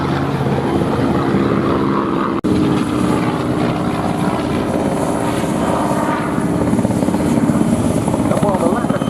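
Vintage warplanes fly over the Duxford Battle of Britain airshow, a loud continuous propeller engine roar with a sharp brief break, while an announcer talks over the noise.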